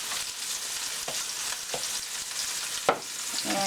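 Pork browning in a pan with carrots and celery sizzles as a steady, close crackling hiss, with a few soft clunks of vegetables and a spoon stirring through the mixture.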